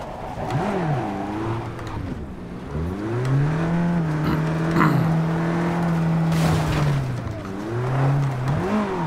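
A car in the video game Cyberpunk 2077 ploughing through piles of trash, its engine revving and sliding in pitch, loud and close, with a few rough bursts of debris noise along the way.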